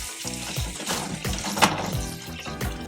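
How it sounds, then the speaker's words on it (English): Warm water runs steadily from a tap over snow crab legs being rinsed, a continuous close splashing with faint irregular clatter and no talk. "I'm going to wash the crab legs"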